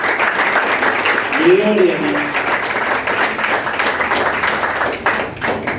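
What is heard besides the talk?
congregation applause in church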